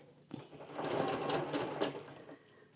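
Sewing machine stitching steadily across the bottom edge of a fabric project for boxed corners, a close, continuous mechanical whir that starts abruptly and runs without talk before easing off.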